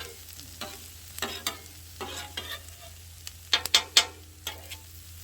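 Food frying on a 36-inch outdoor flat top griddle at breakfast, a soft steady sizzle broken by repeated sharp metal spatula scrapes and taps, close and fairly quiet, no talk.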